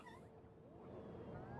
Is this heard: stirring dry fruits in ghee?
no